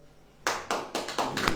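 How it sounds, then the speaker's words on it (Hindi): A church congregation clapping in a few separate bursts, sharp and fairly close, starting after a quiet moment and landing in an uneven rhythm with no talking. "ताली बजाए"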